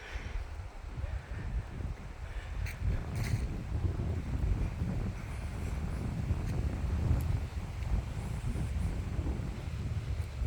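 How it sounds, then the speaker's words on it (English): Wind gusts through the trees at a campsite in Ike Kinswa State Park in October, a constant low roaring rush that swells and eases, partly buffeting the microphone. "Can you hear the wind in the trees?"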